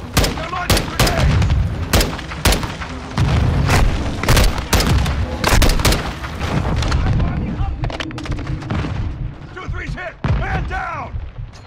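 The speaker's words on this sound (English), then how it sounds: "They're launching grenades!" Grenade explosions and gunfire in the Modern Warfare 2 campaign make dense booms and sharp shots in close succession, loud and chaotic, while voices shout over the combat.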